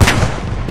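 A single tank cannon shot in the Post Scriptum WWII game, a loud close boom with a sharp attack that decays into a rumbling tail.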